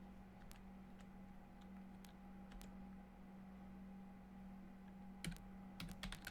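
Scattered keystrokes on a Commodore computer keyboard, a few isolated taps spread out and then a quick cluster of clicks near the end, faint and close against a steady electrical hum.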